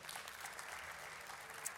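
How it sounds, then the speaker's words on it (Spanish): A church congregation claps briefly. The dense, even applause is fairly quiet and distant, lasting under two seconds. "Amén, denle un aplauso al Señor por eso."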